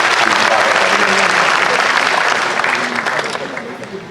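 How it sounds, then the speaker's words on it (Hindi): Loud, dense applause from an audience at a book launch event in Delhi welcomes a guest, steady and sustained before tapering slightly toward the end. "डॉक्टर विजय महाजन जी का जोरदार तालियों के साथ हम स्वागत करेंगे।"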